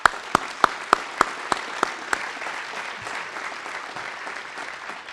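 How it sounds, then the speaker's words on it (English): Audience applause at a mentoring awards gala, a steady wash of many hands clapping that fills the room, with a few sharp close claps standing out near the start before settling into an even ovation. "I think we should all applaud and thank Betsy posthumously"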